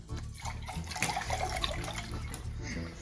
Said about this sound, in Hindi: आपने इनको ऐसे पानी सर्व करना